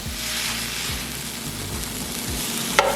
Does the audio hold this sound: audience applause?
no